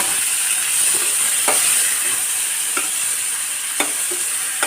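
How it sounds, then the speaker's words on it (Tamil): Onion and tomato sauté in a hot pan for a okra-and-yogurt curry, giving a steady loud sizzle with a few soft stirring scrapes spaced through it, close and with no voice. "இதை நல்லா வதக்கிடுவோம். வெங்காயத்தோடய தக்காளி போட்டுருக்கேன்."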